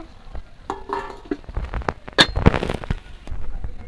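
Ash gourd curry simmering in a covered pot, crackling and popping in quick irregular bursts at close range, with no talk.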